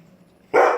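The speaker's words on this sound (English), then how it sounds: "Sorry, my dog's barking." A dog barks once, loud and close, in a sudden burst after a near-silent moment.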